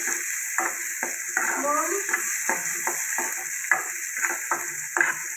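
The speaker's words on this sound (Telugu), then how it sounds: "ఉల్లిపాయలు నూనెలో జీలకర్ర వేసాను వేసినాక ఉల్లిపాయలు వేసుకోవాలి" Onions and cumin seeds frying in oil for a momo curry, a steady close sizzle broken by repeated stirring clicks and scrapes of a spoon against the pan.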